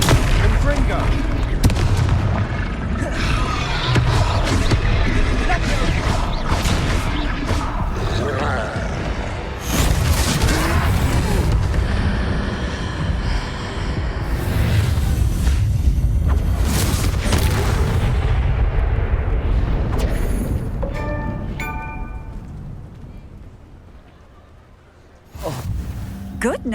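Confringo blasting spells go off as repeated booming explosions in Hogwarts Legacy, loud and dense over heavy combat noise, while a voice talks between the blasts.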